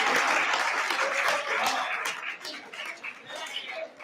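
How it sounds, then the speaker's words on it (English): Audience applause for a winning photo at a graduation event, a steady broadband patter of many hands that swells at first and then thins and fades over about four seconds. "Come on, applause for Anna,"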